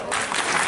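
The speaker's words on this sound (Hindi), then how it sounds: "एक नंबर तालियां" Brief burst of audience applause at a Banjara and Sikh community gathering, a dense wash of clapping hands rising sharply and holding steady at moderate loudness, with faint crowd murmur beneath.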